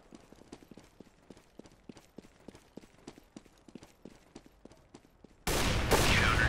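Rapid, evenly spaced gunshots from the video game CS:GO tick along as a steady light volley for several seconds, then a sudden loud wash of harsh noise takes over.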